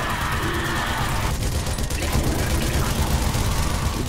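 MG42 machine guns firing in the zombie shooter game Zombie Army Trilogy: a loud, continuous stream of rapid gunfire and booms, with no break across the whole stretch.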